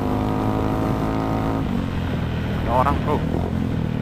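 A Yamaha XMAX scooter fitted with a Villan MV1 exhaust without its dB killer, producing a loud, steady deep drone from close by, with a person speaking briefly over it.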